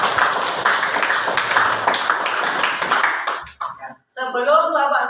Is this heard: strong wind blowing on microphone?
no